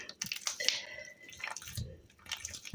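Croissant dough for sweet crescent rolls being kneaded by hand, giving soft wet squishes and sticky slaps at close range, irregular and fairly quiet with no talking.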